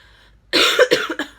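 A burst of several harsh coughs close to the mic after a quiet moment, three or four rough hacks in quick succession.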